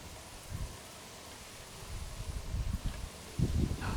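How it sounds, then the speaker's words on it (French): Outdoor wind gusts buffet the microphone in low, muffled rumbles, faint at first and growing stronger and more frequent toward the end. "Ah, du vent, ça fait du bien."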